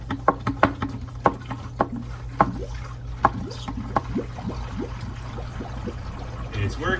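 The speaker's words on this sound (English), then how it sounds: "And here comes the water." Water rushing into a Penn Plax Cascade canister filter as it primes from an aquarium, a gurgling, splashing flow with sharp bubbly pops early on that settle into steadier trickling, over a low constant hum.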